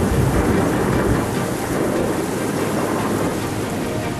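Heavy monsoon downpour drums steadily on surfaces in late August while thunder rumbles low and continuous, loud and dense throughout with no voices.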